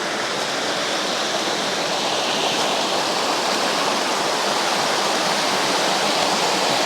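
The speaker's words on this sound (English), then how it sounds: "this is like I said, the smaller of the two waterfalls" Water pours steadily over the smaller of two waterfalls, a constant broadband rushing roar at moderate level throughout with no voices or breaks.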